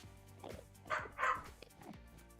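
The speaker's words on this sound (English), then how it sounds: "My dogs are barking really loud." Dogs bark indoors in the distance, several muffled yips and barks in a short irregular cluster, faint under room noise.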